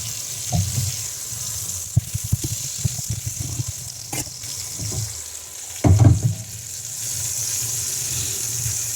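Pork sizzles and fries in a pan with the heat turned down, a steady crackle interrupted by a few louder bursts and clattering knocks, no voices.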